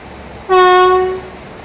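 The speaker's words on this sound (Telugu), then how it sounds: "ఇక్కడ నుంచి ట్రైన్ వచ్చేసి ఇలా వెళ్ళిపోతుంది" Machilipatnam-Dharmavaram Express train sounds a single loud, steady horn blast lasting under a second, then fades, with no talk.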